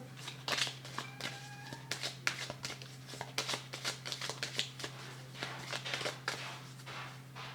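Tarot cards being handled and drawn, a close run of rapid papery flicks and shuffling riffles in irregular bursts over a faint steady hum.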